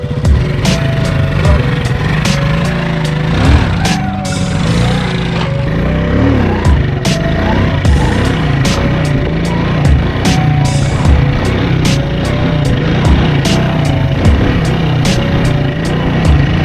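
Motorcycle engine running steadily for a wheelie practice, a continuous loud mid-pitched drone with small throttle swells and a few sharper blips, close and alone without talk.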